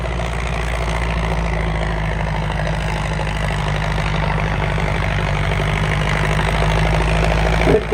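A Sonalika tractor engine runs steadily at a trolley-pulling contest, a loud continuous low drone with a rapid firing rhythm and no break across the whole stretch.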